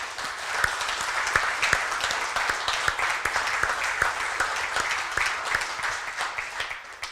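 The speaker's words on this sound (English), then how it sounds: "let's give these guys a great round of applause" Sustained applause from an audience at a woodworkers' guild meeting, a dense steady patter of many hands clapping at moderate distance, continuing evenly throughout with no talking.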